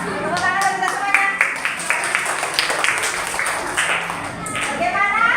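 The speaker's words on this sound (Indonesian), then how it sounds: "Tepuk tangan kita semuanya." A classroom group claps together, giving a dense run of quick, steady claps that carries through the whole stretch at fairly close range.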